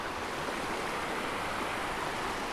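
Steady, broadband rushing of flowing water near a waterfall, continuous and fairly faint, with no voices.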